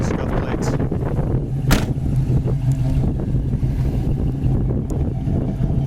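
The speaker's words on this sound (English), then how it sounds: "The dual exhaust sounds real nice." A 1973 Chevy Nova SS with dual exhaust and chrome tips idling, a low steady burbling rumble close by, roughened by wind noise across the microphone.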